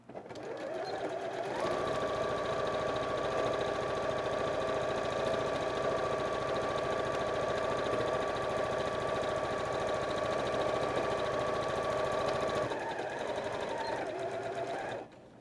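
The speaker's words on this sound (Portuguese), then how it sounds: "agora eu vou passar uma costura aqui" A sewing machine stitches a seam on a waterproof baby laundry bag, starting up after a moment, running in one steady close mechanical whir for about eleven seconds, then stopping.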